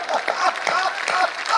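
An audience at a Hindi comedy poetry gathering claps briefly, a dense patter of hands that stays fairly close and steady, with a voice sounding beneath it.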